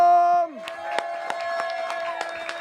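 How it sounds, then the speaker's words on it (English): A comedy club crowd claps and cheers as the host is brought on stage, scattered sharp claps over a steady roar of voices, following a brief sustained musical tone at the start. "Please put your hands together for Big D Hullum!"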